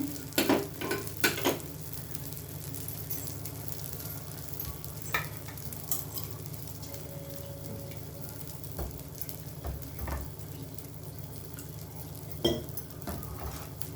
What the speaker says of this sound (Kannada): ದೋಸೆ ಹಾಕಿದ್ದೀನಿ.